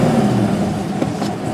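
A truck engine fitted with an Advanced Fuel Dynamics flex fuel system revs loudly and steadily up to about 2,500 RPM, a close, sustained engine roar with no speech.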